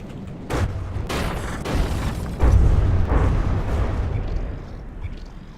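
Missiles firing and exploding in From The Depths, producing a series of loud booms and bursts over a dense low rumble, several sharp blasts in quick succession followed by sustained rolling thunder, no talking.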